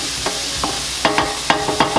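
Onion sautéing in a pan with salt and black pepper for shrimp and asparagus linguine, heard as a soft steady sizzle broken by several sharp scraping stirs, close and moderately loud with no voices.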